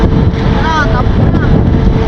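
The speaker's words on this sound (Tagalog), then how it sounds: "Lakas ng hangin." Strong wind buffets the microphone aboard a ship from Romblon, a loud continuous roar with rumbling low gusts and faint whistling tones.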